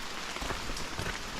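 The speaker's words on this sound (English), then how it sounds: "Even in the rain, it's so peaceful." Rain falls steadily in a Costa Rican rainforest, a close, even hiss of drops pattering on leaves and surfaces, heard alone.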